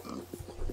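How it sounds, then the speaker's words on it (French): Pigs in a video game give a few short, low grunting oinks in quick succession, faint and close together within a brief moment. "J'ai mis trop de cochons."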